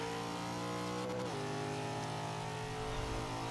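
Nissan Silvia Spec R engine in a B Class Forza 5 race, droning steadily at high revs, with a brief dip in pitch like a gear change partway through.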